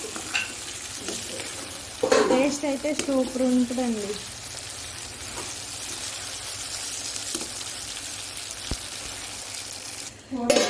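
Steady sizzling of chicken frying in oil fills the scene, with occasional stirring scrapes and a person speaking over it for a few seconds.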